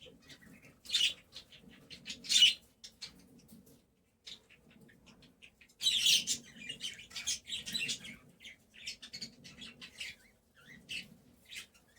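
Pet birds and young chicks in a cage chirp in quick, high bursts, close and fairly clear, with short quiet gaps between clusters of calls and no talking.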